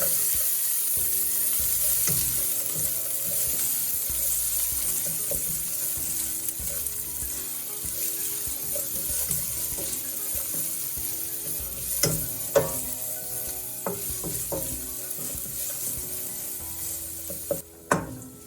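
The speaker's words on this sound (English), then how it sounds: "Now add the diced onions." Diced onions sizzle in a pan for a sustained stretch, with a bright continuous frying hiss and a few sharp utensil knocks and stirring clatters later on.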